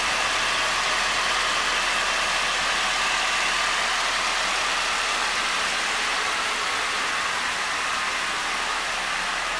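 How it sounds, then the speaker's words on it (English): Ford Ranger four-cylinder engine with an aftermarket Dynomax exhaust idling, a steady continuous hum close by with no talking over it. "This does sound beefy for a little 4-cylinder."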